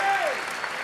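Racquetball crowd at the 2005 US Open quarterfinals applauding on their feet, a dense wash of clapping and cheering filling the whole short burst at steady volume, with a commentator's voice briefly over it.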